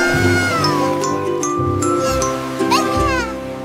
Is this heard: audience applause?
no